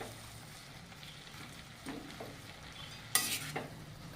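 Methi bhaji with peanut powder being stirred in a pan, quiet and close: a faint sizzle under a few soft spoon scrapes and one sharper metallic clink near the end, with no voices.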